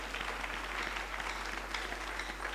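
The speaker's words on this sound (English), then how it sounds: "Clap for Jesus, clap for Jesus." A church congregation claps steadily for Jesus during a sermon, a dense, even patter of many hands filling the room at moderate distance with no pauses.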